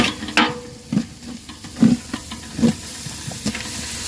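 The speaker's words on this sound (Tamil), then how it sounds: "இப்போ நாங்கள் தயிர் போடுவோம்" Yogurt stirred into a chicken biryani marinade, soft wet squelching strokes repeating roughly every second over a faint steady background.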